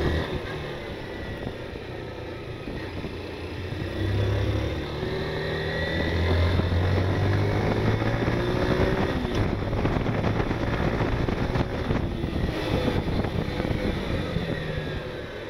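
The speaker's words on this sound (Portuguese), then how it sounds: "Então fique apenas com o som do motor para acompanhar." Small 160 cc motorcycles, Honda CG 160 Fan, Bajaj Dominar 160 or Haojue DR 160, passing on a straight with an engine note that rises then drops through downshifts under braking, loud and close with wind noise and no talk.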